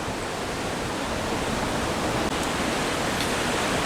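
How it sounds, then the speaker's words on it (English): Strong wind roaring at a fishing lake during an angling match, a steady dense rush of broadband noise that stays loud and unbroken throughout, with no talk. "you can hear the wind in the background."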